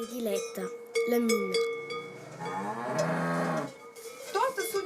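Cattle on a Swiss alpine pasture in early snow at the end of the summer grazing season give a long, loud moo among other cow calls, with faint clinking in the background.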